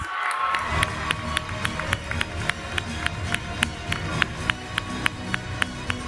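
At the closing ceremony of a model UN conference, an audience applauds award winners with steady crowd clapping. Sharp rhythmic taps run beneath the clapping at an even pace.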